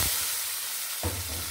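Cut potatoes fry in oil in a wok, giving a steady close sizzle and hiss, with a brief stirring clatter near the end.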